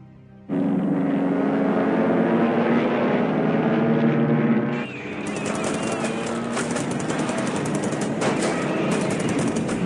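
Air strike combat in the War in the Pacific video game as a wave of P-39 fighters attacks: dense, loud rolling engine drone and gunfire, with a sharper burst of crackling shots partway through.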